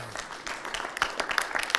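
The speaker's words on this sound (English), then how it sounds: "Let's give Morris a round of applause." A short burst of scattered clapping from a small group, lively and uneven, with individual claps popping out near the end.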